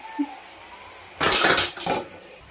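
A utensil scrapes and clinks against a pan while liver fry is stirred, with two short bursts of metallic scraping after a quiet start.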